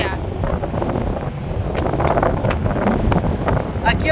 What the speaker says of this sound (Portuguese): o vento é tão forte, que com certeza vou ter muito arrasto lateral